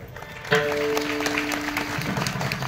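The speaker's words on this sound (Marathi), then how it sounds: "नुसत्या टाळ्या वाजवू नका" Clapping from an audience at a Marathi kirtan, a moderate burst of scattered claps, fairly close, with a sustained tonal note ringing over it for about a second and a half.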